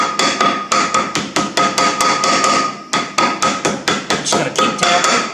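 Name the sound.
rubber hammer tapping on John Deere engine part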